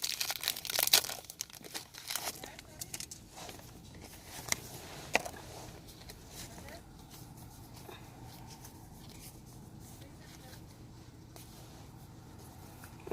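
A Pokemon Trading Card Game Sun and Moon Team Up card pack wrapper crinkles and tears near the start, followed by softer rustling and handling of plastic that fades into quiet background noise.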